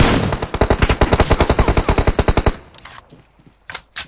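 A rapid burst of automatic gunfire rattles out in a fast, even stream for about two and a half seconds in a shooter game played on an emulator, then a few scattered faint shots and thumps follow.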